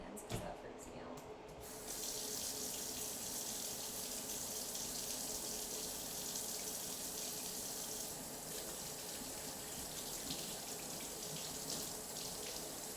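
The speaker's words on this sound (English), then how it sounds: "I'm going to go ahead and wash my hands" A kitchen tap runs steadily into the sink while hands are washed, a soft continuous rush of water that starts after a brief clatter.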